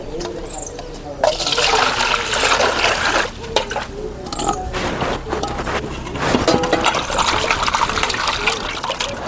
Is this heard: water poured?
yes